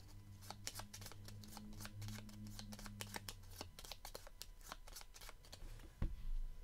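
A deck of cards for the Freshwater Fly Solo board game is shuffled close up as a quick run of crisp riffling snaps, followed by a soft thump as the cards settle, with no talking.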